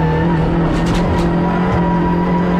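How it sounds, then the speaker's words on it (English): A loud diesel race car roars past up close on a racing circuit, a steady deep drone with a brief rise as it goes by. "its distinctive diesel sound"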